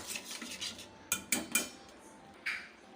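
A spoon stirs tomato paste, curd, salt and asafoetida together in a bowl, giving soft scraping swirls broken by several sharp metallic clinks against the rim, close and clear with no talking.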